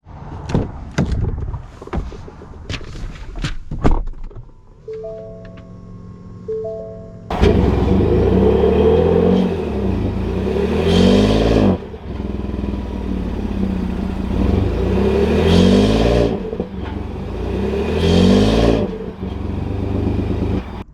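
2021 Ford F-150 PowerBoost hybrid truck: door clatter and startup chimes, then a loud engine pulling through repeated rising acceleration surges with gear changes, heard close from the cabin.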